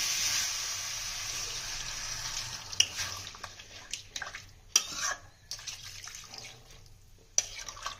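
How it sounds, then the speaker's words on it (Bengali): Fried spice masala with potatoes sizzles loudly in a pan as water is poured in for potato dum. The hiss fades into intermittent stirring scrapes and clinks, with no talking. "মশলাটা কষা হয়ে গেছে, আমরা জল দিয়ে দেবো।"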